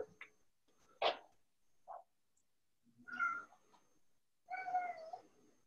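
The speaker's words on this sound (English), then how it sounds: "Oh, that was my cat." Cat meowing indoors, several separate short meows and one longer drawn-out call spread over a few seconds, moderately near against quiet surroundings.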